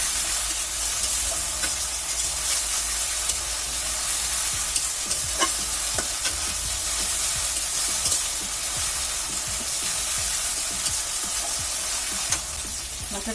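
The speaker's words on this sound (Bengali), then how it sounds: "এখন আমি মশলাটা ভালোভাবে কষিয়ে নেব।" Spice paste with green chillies is sautéed for a cow head beef and potato curry, giving a steady close sizzle with continuous stirring scrapes and occasional spatters, no talk.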